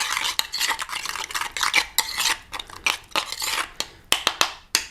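A fork or spoon scrapes and clinks against a bowl while mixing chimichurri made with Italian herbs including oregano. The stirring is quick, close and rhythmic, with repeated metallic scrapes and taps, and no voices.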